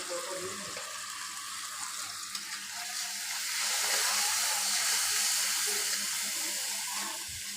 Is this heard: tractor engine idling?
no